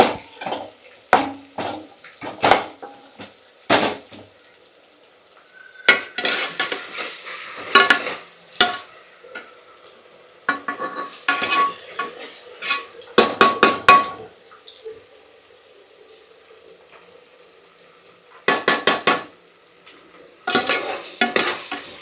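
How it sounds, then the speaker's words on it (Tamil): Food frying in a pan while being stirred, intermittent bursts of spoon scraping and clattering against the pan separated by short quiet gaps. "எல்லாம் நல்லா ஃப்ரை."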